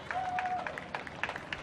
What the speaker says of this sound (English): Listen to the applause as our Vietnam Veterans of America, the Liberty County chapter